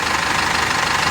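A Foton Tornado with a Cummins 2.8 diesel engine runs after a general overhaul, giving a steady, loud mechanical clatter and drone that holds evenly throughout with no talking.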